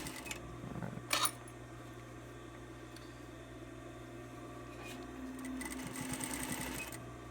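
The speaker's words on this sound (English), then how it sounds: "Just kind of holding these edges down here while I do this top stitching." A sewing machine top stitching fabric, a steady, fairly quiet mechanical whir that runs throughout with a brief clunk near the start and slightly busier stitching toward the end, no talking.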